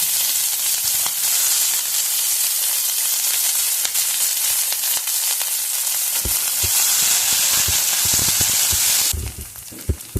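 Onion, green chilli and ginger sizzling in hot oil in a pan with peanuts, a steady bright frying hiss with stirring clicks and scrapes, loud and close, dropping off near the end.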